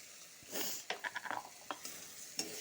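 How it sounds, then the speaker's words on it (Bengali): Onion with coriander and cumin powder fries for a katla fish curry with sour yogurt. A faint close sizzle swells briefly, followed by a quick run of light spatula taps and scrapes. "ভালো করে ভাজবো"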